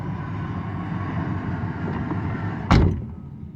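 A steady, distant aircraft rumble drones near an airport, broken near the end by a single heavy thud before the noise eases off.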